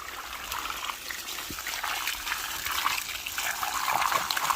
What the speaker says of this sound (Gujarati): જો હવે પાણી આવ્યું ફાસ્ટમાં.